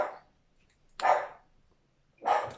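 A pet dog barks three times at home, each bark a sharp single burst set apart by pauses of roughly a second, fairly close and clear with no other sound between them.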